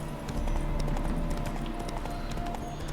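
Roach, the horse in The Witcher 3, trots with a steady, close clip-clop of hooves over a low rumble of in-game ambience, with no talk.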